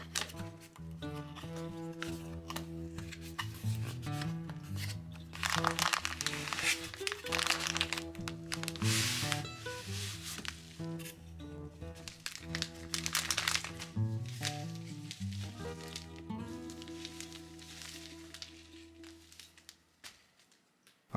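A bag of Woodland Scenics plaster being opened, with irregular crinkling, crackling and rustling of the packaging in bursts of handling over a steady low background hum.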